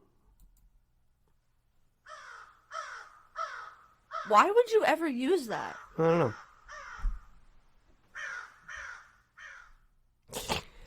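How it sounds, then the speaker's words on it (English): A crow sound effect plays as a run of harsh, repeated caws in short bursts, spaced between stretches of loud conversational talk, ending with a sharp final burst. "Why is there a crow?"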